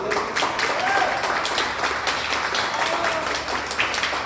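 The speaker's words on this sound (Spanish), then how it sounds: "Les pido por favor un fuerte aplauso para el ponente." Audience applause for a speaker at a binational symposium session on identity and border communities, steady dense clapping throughout with faint murmur in the room.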